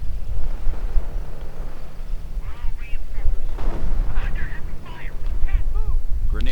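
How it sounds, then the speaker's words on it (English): Grenade explosions in a real-time strategy video game battle, several heavy booms and blasts scattered amid ongoing combat noise, while a commentator talks over the action. "Grenades have arrived."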